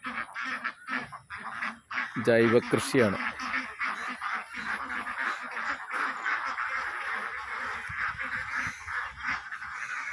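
Ducks on a fish pond at a farm quack in short bursts early on, then a voice talks over steady outdoor background noise.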